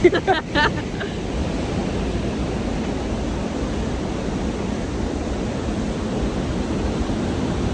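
Standing right at the base of a waterfall in Grand Teton or Yellowstone, a dense, steady roar of crashing water fills the air up close and loud, with a brief burst of wind or handling noise at the start.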